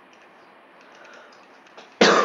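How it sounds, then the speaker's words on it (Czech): A single short, loud cough bursts out near the end after a quiet stretch of low background hum from a train simulator session on an R 685 route. "Naštěstí už je to teďka na ten kašel."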